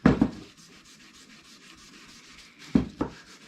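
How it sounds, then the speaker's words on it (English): Steel wool is rubbed over a wooden furniture piece during refinishing, giving two short, soft scratchy bursts near the start and end with quiet hiss in between. "Get yourself a new piece of steel wool. Using the clean bucket here, gently rub it on your piece again."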